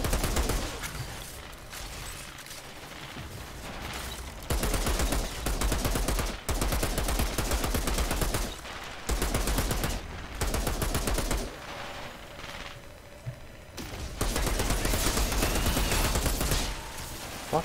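Outriders gameplay fills with loud, sustained automatic gunfire, long dense bursts of rapid shots broken by a few brief pauses, with no voices heard.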